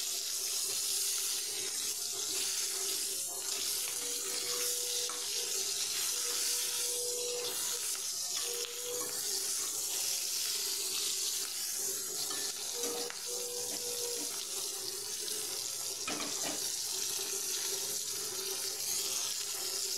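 Bitter gourd frying in hot oil with bay leaf, green and dried chillies and whole spices, giving a steady, dense sizzling hiss that runs unbroken and fairly loud throughout.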